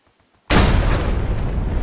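In the video game Hell Let Loose, an anti-tank gun shell detonates with a sudden loud blast out of near silence, followed by a rumbling, crackling decay lasting over a second.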